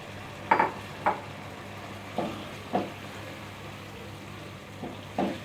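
Washed chicken tossed into frying masala for chicken korma, a low sizzle running underneath while a spoon scrapes and clanks against the pan in several separate strokes.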